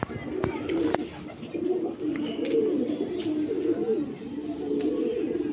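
A female Lokhande pigeon gives a continuous low, throaty coo, rising and falling in soft pulses for several seconds, with a few faint clicks and light background sound.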